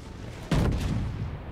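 A Scharnhorst battleship fires a naval gun salvo in World of Warships: one sudden, heavy boom that cuts in sharply and rolls into a loud, sustained rumble with no talking.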